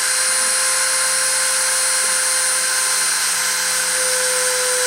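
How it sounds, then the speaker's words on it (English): A machine spindle running at 30,000 RPM for a deposition process gives off a steady, loud high-pitched whine with constant tones, unbroken throughout. "let's start the spindle and start the deposition."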